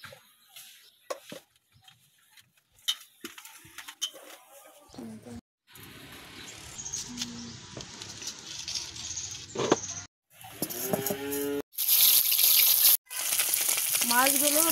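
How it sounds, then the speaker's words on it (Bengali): Jatka fish frying in a pan: a crackling sizzle that comes and goes in abrupt segments with silent gaps, growing louder and denser toward the end. "মাছগুলো ভাজা হয়ে গেছে"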